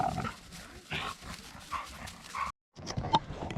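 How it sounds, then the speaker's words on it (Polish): Stray dogs barking in a national park in Montenegro: a few sharp, separate barks and yips at moderate distance, with a brief drop to silence before more barking. "Bezpańskie pieski przyszły do nas."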